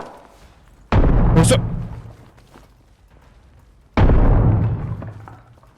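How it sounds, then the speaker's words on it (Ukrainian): Two loud grenade explosions in a video game, a few seconds apart, each a heavy boom that rolls off into a decaying rumble. "Я кину гранату йому."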